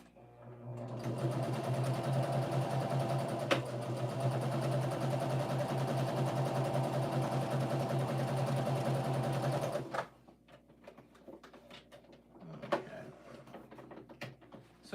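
A sewing machine runs a continuous chain stitch, a loud, steady mechanical whir lasting about ten seconds before stopping abruptly, followed by quieter handling clicks and small movements.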